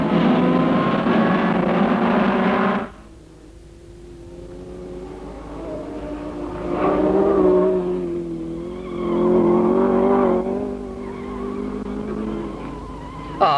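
Formula Junior racing cars get away at a 1963 circuit race start, with a loud burst of engines and tire squeal that cuts off. Engines then rise and fall in several passes as the cars drive away into the distance.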